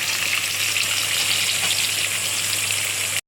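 Brinjal slices coated in rice flour fry in hot oil, giving a loud, close, even sizzle that holds steady before cutting off abruptly at the end.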